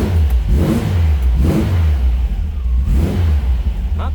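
A vintage car engine, left in neutral, runs loud and close, revved up sharply several times in quick bursts over a rumbling idle, with no talking over it.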